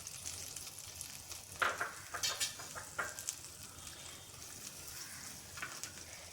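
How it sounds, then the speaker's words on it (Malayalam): Small onions frying in coconut oil in a round pot, with a faint steady sizzle and a few soft stirring scrapes, and no talk. "അപ്പോൾ നമ്മളൊരു വട്ടക്കലത്തിലേക്ക് 2 ടേബിൾ സ്പൂൺ വെളിച്ചെണ്ണ ഒഴിച്ചു. അതിലേക്ക് നമുക്ക് ചെറിയ ഉള്ളി ഇടാം."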